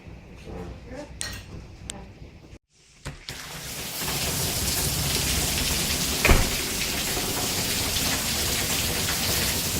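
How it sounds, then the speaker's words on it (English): Heavy rain pours down steadily and loudly, a dense unbroken hiss rising after a few seconds of lighter, clattering drops, with a brief sharper knock partway through and no clear voices. "Now, it's just a lot of rain. Raining like crazy."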